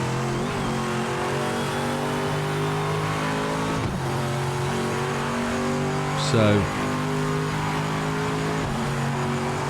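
A race car engine in Project Motor Racing holds a steady, loud drone with brief dips as it shifts through gears, plus a short tire squeal, while someone talks over it.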